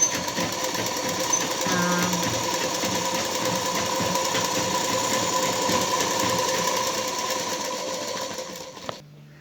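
A sewing machine runs continuously as it stitches a dress, giving a fast, steady mechanical whirring and rattling that stays loud and even before stopping abruptly at the end.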